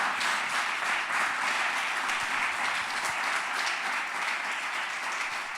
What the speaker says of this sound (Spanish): ¿Le puede dar un aplauso a Dios, por favor?